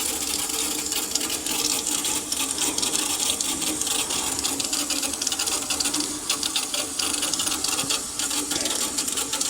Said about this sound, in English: I hear the water going in